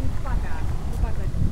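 Steady outdoor wind gusts buffeting the microphone near Notre Dame in Paris, a continuous low rumble with faint voices in the background.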